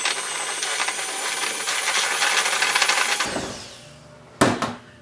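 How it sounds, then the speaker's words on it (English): An electric mixer whips Cool Whip with peanut butter in a bowl, a steady whirring for about three seconds before it cuts off, followed by a brief clatter. "Now, you are going to need a mixer for this"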